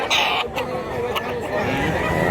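A chicken clucks in short repeated bursts close by in a rural yard in Mantalungon, Cebu, with people chattering underneath.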